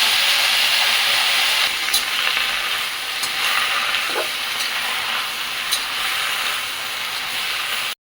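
Loud continuous sizzle of kurdu greens frying with peanut powder and green chili, close and steady, with occasional light scrapes of a spatula stirring the pan.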